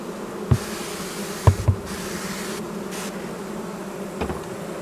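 Honeybees buzz steadily around a hive, a dense droning hum with a few louder thumps and bursts close by.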